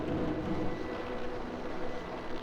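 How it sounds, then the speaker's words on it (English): A low, steady airplane drone rumbles continuously in the SnowRunner video game, a broad even roar with no distinct passes or breaks. "Oh, again, there's the airplane sound."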